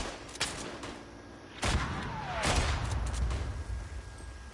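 Distant artillery booms and scattered rifle fire ring out in the WW1 shooter Tannenberg during a live manoeuvre match, heavy low thuds landing around the two-second mark over a continuous battlefield rumble with no talking.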